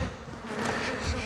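Honey bees buzzing around a defensive, touchy hive, a steady dense drone of many insects close by with no pauses.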